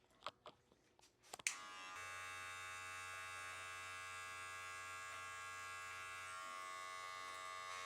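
Electric clippers blending a taper on the sides of a haircut: a few taps and clicks, then the clippers switch on into a steady, close, continuous buzz that runs alone to the end.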